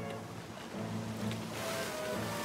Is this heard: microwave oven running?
no